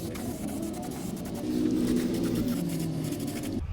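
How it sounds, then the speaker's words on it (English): A Rust-Oleum spray can sprays primer in a steady, continuous hiss that grows stronger midway and then cuts off sharply near the end, close to the microphone, while working on the interior of a 1962 C10 show truck. "This is nice primer, actually. It sprays really good."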